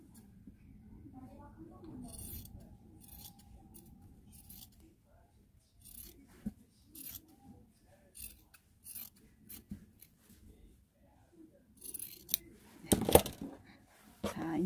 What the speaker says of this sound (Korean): 그래서 안쪽을 또 다시 가로 방향으로 절반을 또 잘라줍니다.